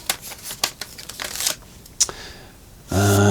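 Elastic band coming off guitar packaging, a quick series of crinkling, rustling handling noises up close, ending in a sudden steady tone.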